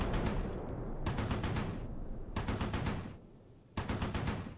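Machine gun fire in Close Combat IV, a WWII Ardennes tactical game, loud rattling bursts in four repeated volleys with short gaps between, close and dominant.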